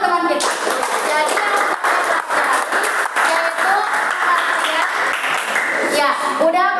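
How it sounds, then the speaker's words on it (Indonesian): Classroom applause from schoolchildren, brisk clapping that carries strongly through the whole stretch with brief dips, mixed with children's voices and chatter. "Oke, tepuk tangan untuk teman kita."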